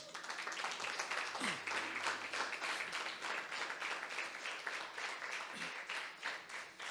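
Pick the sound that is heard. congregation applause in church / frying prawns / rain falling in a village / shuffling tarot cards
congregation applause in church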